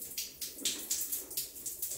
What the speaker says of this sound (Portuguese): Abrir um pouquinho, ver a água vindo lá.